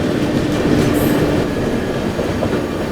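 An Amrit Bharat Express train rolls loudly past while overtaking the Kanpur Shatabdi Express, a dense steady roar of wheels and rail clatter with a short high squeal near the one-second mark.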